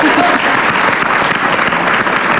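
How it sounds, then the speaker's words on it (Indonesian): Studio audience on an Indonesian TV talk show bursts into loud, dense applause that carries steadily throughout. "Tepuk tangan."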